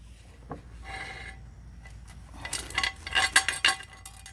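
Loose bearing balls rattle and clink inside a buggy wheel with a failed wheel bearing, a quiet jingling that grows into a louder burst of clattering toward the end.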